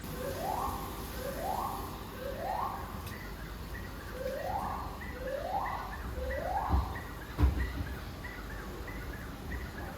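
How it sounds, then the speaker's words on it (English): A bird in Airlie Beach, Australia, repeats a rising, siren-like whooping call resembling a car alarm in two bursts of three, fairly near, over a constant hum of outdoor background noise. "one of these birds sounds like a car alarm"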